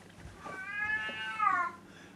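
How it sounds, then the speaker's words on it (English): An elderly twelve-year-old house cat, rescued and with weak rear legs, meows once in a long, drawn-out cry that rises and swells near its end, heard indoors at moderate volume with no talking. "Oh, the pussycat's meowing."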